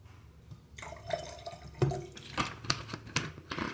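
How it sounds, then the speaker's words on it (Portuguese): Water and rubbing alcohol are poured and stirred together in a glass, giving splashing trickles followed by several distinct close drips and clinks, with no speech. "vou misturar um pouquinho de álcool"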